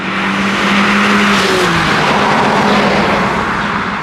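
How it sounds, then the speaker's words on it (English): A Mazda MX-5 Miata RF four-cylinder engine pulling hard on twisty roads, a loud, continuous raspy drone heard from inside the car, rising slightly in pitch with some road and tyre noise underneath. "listen to that note. It's mostly engine noise, and it gives you that 4-cylinder sound"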